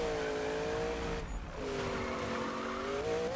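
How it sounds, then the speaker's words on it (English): A drift car in Need for Speed held against its rev limiter: a steady high engine drone that bounces at the cutoff, dips briefly during a shift, then climbs again with faint tyre noise under it. "Too much rev limiter."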